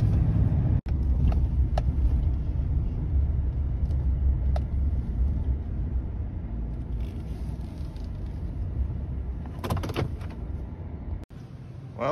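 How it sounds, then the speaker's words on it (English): A township snow plow truck with a wing blade idles in a steady, loud low rumble, with a few sharp clicks and a brief door-like clatter near the end. "We're gonna get these plows running."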